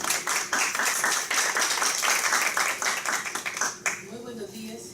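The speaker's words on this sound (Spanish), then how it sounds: "Un aplauso, por favor." An audience at a law conference claps for an introduced lecturer, a steady wash of applause filling most of the moment before fading, with a voice starting to speak as it dies down.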